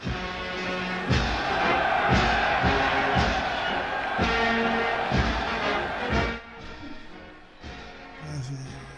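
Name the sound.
crowd cheering and applauding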